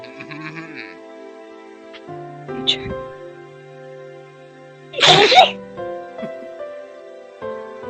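A single sharp sneeze bursts out mid-scene in an anime episode, loud and brief, set against quiet background music.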